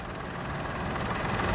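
Steady idle from the 1.2-litre three-cylinder engine of a 2015 Peugeot 208 1.2 VTi, a continuous close rumble with no revving and no voices.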